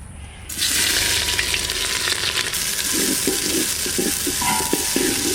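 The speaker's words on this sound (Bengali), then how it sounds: "এবার হাঁড়িতে তেল দিয়ে দেবো, সর্ষের তেল, শুকনো লঙ্কা, জিরে, পেঁয়াজ।" Loud sizzle as dried red chillies, cumin and onion hit hot mustard oil in a handi pot, a sudden burst of crackling hiss that continues steadily with faint stirring scrapes.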